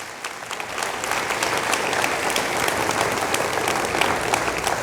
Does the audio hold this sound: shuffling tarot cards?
no